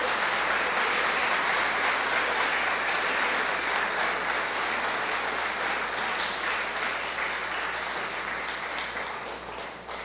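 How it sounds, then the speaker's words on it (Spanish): Church congregation applause, a dense, steady wash of clapping from many people filling the room, holding loud throughout and easing slightly near the end. "Dele un aplauso a Él."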